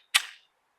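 A single sharp crack from a Smith & Wesson M&P 2.0 compact pistol, close and loud, decaying quickly into silence.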